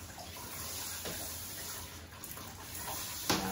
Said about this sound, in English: you'll see that I'm starting to use my shower